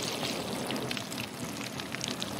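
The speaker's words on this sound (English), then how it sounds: "I'm watering the plants." Water pours steadily from a hose or can onto plants, a continuous splashing, trickling wash like light rain on leaves and soil, close and unbroken, with no voices over it.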